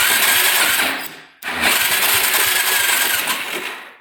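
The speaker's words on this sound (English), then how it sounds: "engine's not sounding too good" A quad ATV engine cranks and runs roughly with a loud, ragged, steady roar; it cuts out briefly and then catches again and keeps running unevenly.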